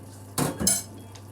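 A utensil stirs cumin, garam masala and sugar into a tomato-based chicken curry in a pan, making two quick, close metallic scrapes and clinks and then a faint tap.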